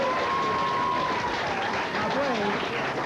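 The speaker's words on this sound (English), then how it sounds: "give him a nice round of applause out there" Studio audience applause on a 1983 television talk show, loud continuous clapping with cheering voices mixed in throughout.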